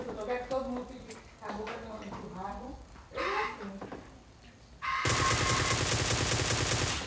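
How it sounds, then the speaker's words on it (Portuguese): Rapid gunfire bursts from the mobile shooter game PUBG Mobile Lite break out in the final seconds, a dense loud rattle following a stretch of someone talking excitedly. "Dando tiro pra parar, tá dando tiro nos outros."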